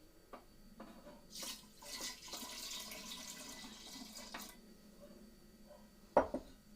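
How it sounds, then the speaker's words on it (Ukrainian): Milk pours into beaten eggs for chocolate muffin batter, a short liquid splash and trickle for a few seconds, close and fairly quiet, followed by a sharp bowl clink near the end. "До розтертих яєць вливаємо молоко."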